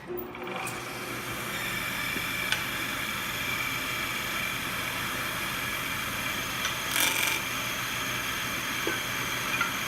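A wood lathe runs steadily after a turning blank is screwed onto it, giving a constant mechanical hum and whirr with a faint steady whine and a few small knocks, close by and without speech.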